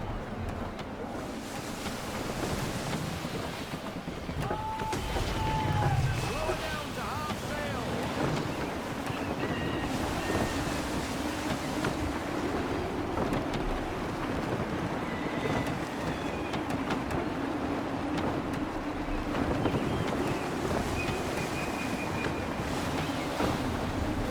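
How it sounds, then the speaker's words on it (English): Steady gusting wind and rolling sea wash around a sailing ship in Assassin's Creed 3, a constant low roar with creaks and occasional faint calls, moderately loud and unbroken. "Gusty winds can be difficult to manage."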